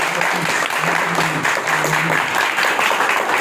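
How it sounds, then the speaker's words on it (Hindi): Congregation at a healing prayer meeting applauding, a continuous broad clapping wash with a faint low hum and some background voice beneath. "आप सब अपनी तालियों से बताएंगे।"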